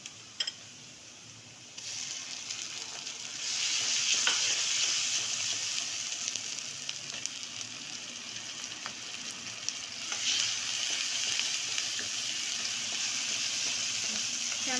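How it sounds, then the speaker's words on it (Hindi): Ginger and garlic sizzle with onions in a pan for an aloo matar dish, giving a steady loud frying hiss that swells as the mix is stirred, with occasional scrapes of the spoon. "चमचा हिलाने, पहले अदरक लहसुन डालने के साथ साथ हम चमचा सही से हिलाएंगे"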